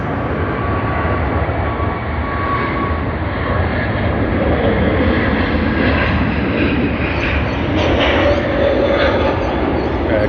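An airliner in broccoli livery at Sydney Airport produces a loud, steady, broadband jet roar that holds constant throughout, close and overwhelming.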